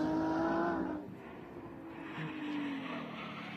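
Touring-class race cars roar down the straightaway onto the backstretch at Virginia International Raceway. A loud engine drone fades after about a second, then another car's note swells and holds.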